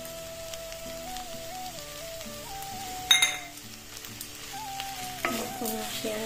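A potato and fenugreek curry with cream bubbles and sizzles in a pan as a spoon stirs through it, with a clatter partway through and a steady tone running underneath.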